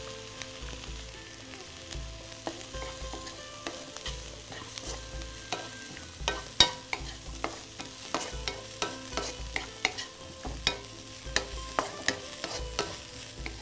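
Finely chopped cauliflower, cabbage and other raw vegetables frying in a pan, with a steady sizzle and repeated sharp scrapes and clinks of a spatula stirring throughout, growing busier toward the end.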